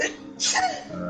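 One short, sharp sneeze bursts out close to the microphone during a racing-game livestream, amid ongoing talk and background sound.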